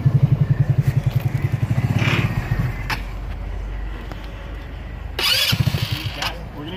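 A go-kart engine cranks with rhythmic pulling chugs, catches and runs on choke as a rough, close idle, with a revving burst near the end and voices talking over it.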